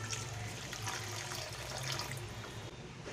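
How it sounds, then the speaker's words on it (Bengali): Water pours steadily into a pan of gravy made for chhana malai kofta, a continuous close splashing rush with no talk. "এই সময় আমি এতে গ্রেভির জন্য জল দেব।"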